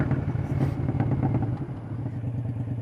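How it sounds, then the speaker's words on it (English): A Triumph Speedmaster motorcycle with a loud aftermarket exhaust rumbles steadily while being ridden, its deep, throbbing engine note close and continuous throughout. "With this exhaust, all I'm thinking of is Big Kev with his America and scaring old ladies with the exhaust"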